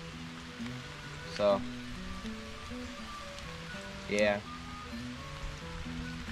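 Steady rain patters on the surface around an angler fishing for crappie, a constant wash beneath two short bursts of talk.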